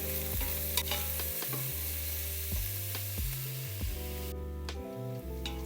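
Onions frying in an electric pressure cooker are stirred, giving a steady close sizzle over a low appliance hum, with occasional scraping clicks from the utensil.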